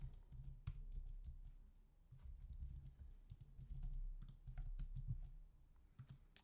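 Someone types a code on a computer keyboard, producing quiet, close, irregular key clicks in short bursts against faint room hum.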